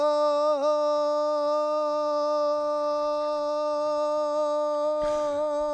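A single sustained sung D note holds steady and clear over a drum loop, the soft rhythmic beat faintly underneath, with a brief noisy burst near the end.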